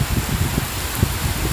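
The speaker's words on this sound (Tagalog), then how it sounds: "Grabe, sobrang lakas ang ulan." Steady, dense, heavy rainfall hisses without a break in Quezon City, with a low rumble of strong wind underneath.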